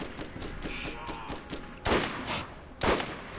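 Rapid gunfire in the video game Borderlands: a fast, steady stream of shots, broken by two louder, heavier blasts near the end, all close and prominent.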